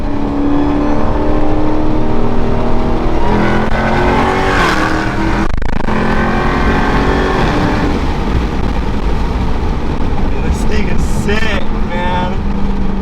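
Dodge Hellcat with a mid-pipe delete exhaust and an aftermarket intake, heard from inside as a loud, continuous engine roar rising and falling through revs, with voices talking over it.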